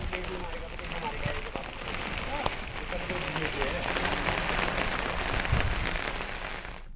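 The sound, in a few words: heavy rain falling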